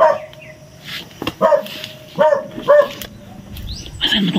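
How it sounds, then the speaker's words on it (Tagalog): A white dog barks close by in a series of about five sharp barks, with short gaps between them and faint background noise. "Asan mo itong asong puti?"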